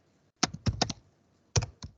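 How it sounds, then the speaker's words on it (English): Several quick clicks of typing on a computer keyboard come in two short bursts separated by a brief pause, crisp and close, with no talking. "So here I'm typing right like this."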